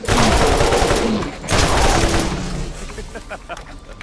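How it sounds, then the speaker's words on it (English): A Torg machine gun in Borderlands fires a rapid burst of gunfire, loud and close, with a second surge partway through before the shots thin out and fade. "Well, it's a Torg machine gun."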